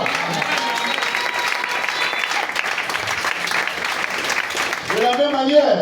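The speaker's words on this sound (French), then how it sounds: "donnez-moi vos acclamations" Church congregation at a Sunday service applauding and cheering, sustained crowd clapping with shouts throughout, ending as a voice starts speaking over it.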